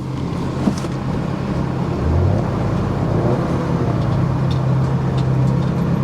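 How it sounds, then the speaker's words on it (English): Engine of a Toyota Tundra pickup at a Copart auction yard, running rough with a misfire after sitting unused, a steady low rumble with uneven pulses throughout, fairly close and with no talking. "No, she's definitely got a misfire going on, guys. Yeah, she is not running well at all."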